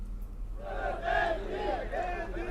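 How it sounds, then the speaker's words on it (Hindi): Congress party workers protest over election ticket announcements in Madhya Pradesh, and the crowd raises overlapping shouts and chant-like voices. After a quieter opening, the shouting swells and holds at a fairly steady level. "लगातार प्रदर्शन हो रहा है, पीछे हम देख रहे हैं कि काफी भीड़ है"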